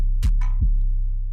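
Hip-hop drum pattern with a deep, sustained 808 bass and a sharp clap, hitting twice in a short bouncing loop, loud and alone.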